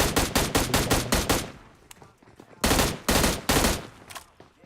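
A gun in PUBG Mobile fires in single-shot mode: a fast, even string of loud shots, a short gap with a few scattered sounds, then another set of four heavy shots.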